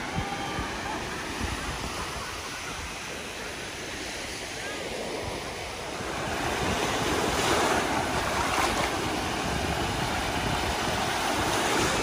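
Waves wash steadily onto the beach at Rosemary Beach, a continuous broad surf roar mixed with wind buffeting the microphone, swelling slightly louder toward the end.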